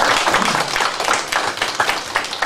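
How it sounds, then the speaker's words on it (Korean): Studio audience at a Korean lecture-style talk show applauding, a dense, steady burst of many hands clapping together throughout, fairly close and loud with no speech over it. "박수 한번 보여드릴까요?"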